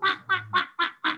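A person mimics a goose honking during a storytelling moment, giving five loud, nasal honks in quick, even succession, each short and separated by brief gaps, with no other sound around them.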